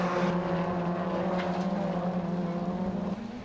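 A rallycross car accelerates over the timing line and down the hill onto loose surface at a British rallycross round, its engine a sustained rising drone heard from a distance, steady throughout before easing slightly at the end.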